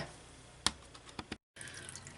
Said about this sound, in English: I've got the water running.